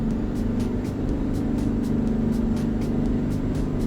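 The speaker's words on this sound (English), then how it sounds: "the top end of the exhaust note sounds a bit race car-ish, but a bit well-tuned engine." Detroit Diesel 12V71T two-stroke truck engine in American Truck Simulator, a steady loud droning exhaust note with a rapid pulsing rhythm, running alone without talk.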